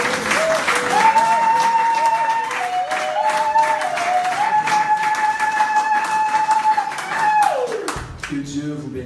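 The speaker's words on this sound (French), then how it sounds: "Nous donnons encore une offrande d'acclamation à celui qui mérite l'admiration" A congregation at a church gathering breaks into sustained applause, dense clapping and cheering that swells and holds for several seconds, with a musical keyboard tone sounding along with it, before tapering off near the end.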